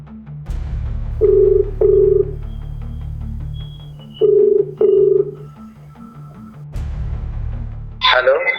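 Ringback tone of an outgoing phone call in a home drama scene: two pairs of double beeps separated by a pause, clear and steady over a low background hum.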